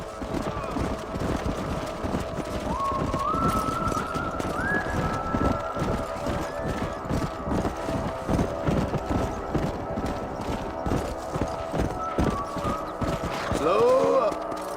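Horse hooves clip-clop steadily and close in Red Dead Redemption, a brisk rhythmic gait with a brief whinny near the end, while voices talk over the riding.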